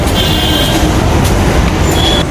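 Mumbai elevated metro train running, a steady loud low rumble with continuous rail and wheel noise throughout, plus faint high squealing tones near the start and end.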